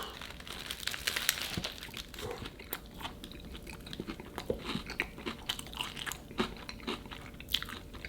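Crisp bites and steady crunchy chewing of a large bulgogi burger with a deep-fried patty and sauce, eaten in LA, close and loud with repeated crackling bursts throughout and no talk.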